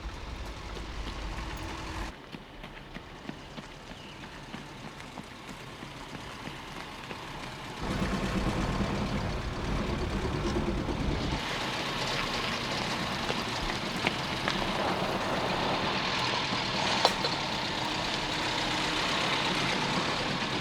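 A 1930s motor car arriving, its engine rumbling low and steady at first, then swelling louder and rougher as it draws close and idles nearby, with no voices.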